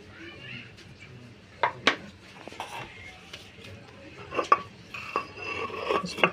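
Salt and asafoetida are ground by hand for besan fulaure, giving irregular scraping with sharp clinks of utensils in a home kitchen, mostly close and moderately loud.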